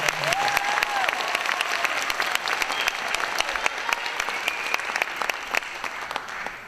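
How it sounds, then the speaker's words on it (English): Loud, sustained clapping from a school audience honoring a student and teacher, dense and continuous throughout with sharp individual claps standing out, and a faint voice early on. "You can clap really, really, really,"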